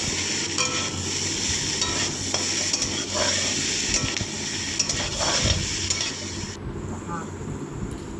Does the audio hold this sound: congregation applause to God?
no